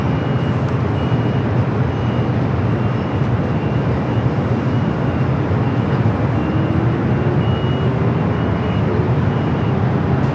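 A KLM airliner arriving at Los Angeles airport, a broad steady jet roar holding loud and constant throughout with no talk.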